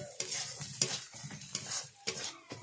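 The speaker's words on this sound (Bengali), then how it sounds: "ভালো করে মশলা আমি কষিয়ে নেব" Spices and chili sizzle in oil as they are stir-fried for village-style chicken kosha. A spatula scrapes the pan in repeated rhythmic strokes over steady frying, close up, with no speech.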